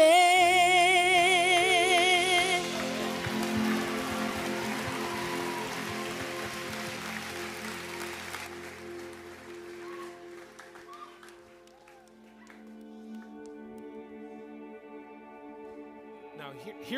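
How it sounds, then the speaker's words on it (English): A worship congregation at a night service claps in a dense, sustained wash of applause that starts over fading music and slowly thins and quietens over many seconds, with soft tones returning near the end. "I heard us clap."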